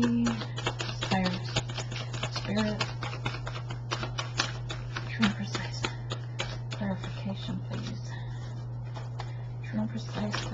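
A deck of tarot cards is shuffled by hand, producing a steady stream of quick papery clicks and riffles over a constant low electrical hum.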